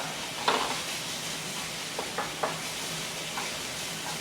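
Mushrooms and meat stir-fry in bulgogi seasoning for japchae, sizzling steadily over high heat while a utensil scrapes and taps the pan a few times.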